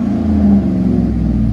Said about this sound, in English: GMC Sierra 1500 SLE with vibrant. Oh, yeah. Vibrant exhaust